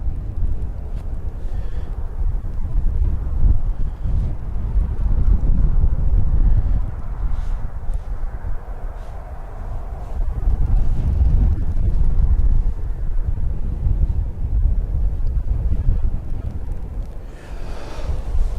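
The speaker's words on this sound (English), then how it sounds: "it is a very cold wind blowing across directly from the east" A very cold east wind buffets the microphone across an open airfield, a continuous loud rumbling roar that swells and eases in gusts for the whole stretch, with no one speaking.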